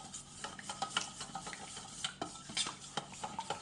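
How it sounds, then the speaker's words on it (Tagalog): Longganisa sausage ingredients are mixed by hand, with soft, moist squelching and rubbing in an irregular rhythm, close and faint, with no voices. "I-mix-mix lang po natin ang ating ingredients"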